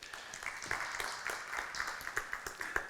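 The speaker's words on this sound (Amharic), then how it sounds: "አጨብጭቡ እስቲ ለእግዚአብሔር ክብር።" A church congregation applauding, a soft, fairly distant patter of many hands clapping in uneven bursts for a few seconds.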